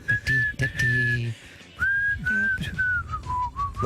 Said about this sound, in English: Please insert the Omar whistle.